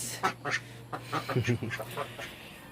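Ducks kept for roasting quack nearby in a series of short, nasal calls in irregular clusters over a low steady hum, moderately faint.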